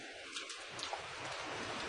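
Steady rain falling during a Good Friday procession in Cuenca, a soft, even outdoor hiss with faint patter and no voices.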